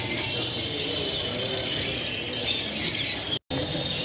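Canaries sing at an ornithological exhibition in Las Lomas del Albujón, Campo de Cartagena. Bright, continuous chirping and trilling from several birds fills the hall steadily.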